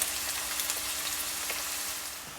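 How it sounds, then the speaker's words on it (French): Garlic and onion frying in a generous amount of oil, a steady hissing sizzle that fades slightly toward the end, close and fairly quiet, with no talking. "dans une belle quantité d'huile, on va mettre donc l'ail et l'oignon"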